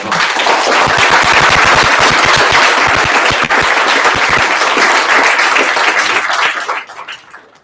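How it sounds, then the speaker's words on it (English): Loud, sustained applause from an audience after a data science panel, with a crackling burst of many hands that stays dense for several seconds and then fades out. "Can we give a round of applause, please?"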